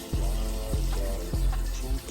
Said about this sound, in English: So I'm gonna wash this off my face